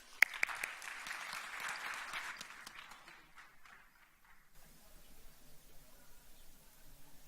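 A conference audience applauds a keynote speaker at ArabNet Beirut 2017. The clapping is moderately loud for about four seconds, then dies away into a quiet room.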